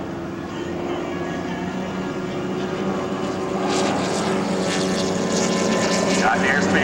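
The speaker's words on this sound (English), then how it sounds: "Gets the altitude he needs, rolls the airplane around, pulls the nose down through." A North American SNJ propeller warbird performs aerobatic rolls at an airshow, its engine droning steadily and swelling louder as it climbs and rolls, with a crowd and commentary audible faintly beneath.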